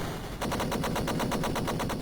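Rapid machine-gun-style enemy fire rattles in the 1994 Amiga helicopter game Jungle Strike, a loud continuous burst of evenly spaced shots after a brief quieter lead-in.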